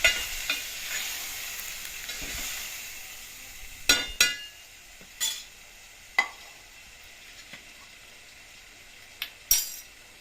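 Cooked dal being stirred into a mashed potato mixture in a home kitchen, with soft scraping and sizzle underneath and several sharp utensil clinks against the pot scattered through the stretch.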